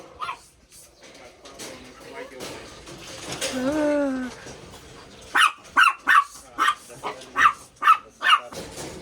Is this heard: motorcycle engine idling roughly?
no